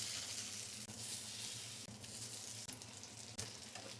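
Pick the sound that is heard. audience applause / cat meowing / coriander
coriander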